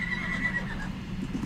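A unicorn horse in a Viking game whinnies with a high, wavering neigh near the start, over a low rumbling background and faint hoof-like movement, close and fairly loud.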